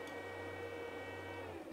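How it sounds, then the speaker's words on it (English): A TwoTrees Bluer Plus 3D printer runs with a steady, fairly loud motor and fan drone and a low constant hum that cuts out near the end, with no talking. "as you can hear, this is not a quiet printer."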